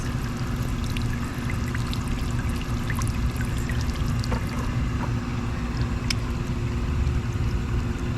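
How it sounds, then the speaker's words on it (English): Water from a solar fountain sprays and splashes in a steady, continuous patter, with a low constant pump hum underneath and no voices. "And they all spray in different ways."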